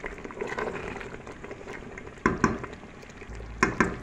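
Meat frying in a pot with onion, tomato and herbs: a steady sizzle and bubbling, with a few sharp clinks of a utensil against the pot near the end.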